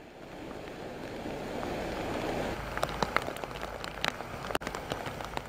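Steady overnight and morning rain pours down near a river that has burst its banks, a dense continuous wash with a few sharper taps and splashes scattered through the later seconds.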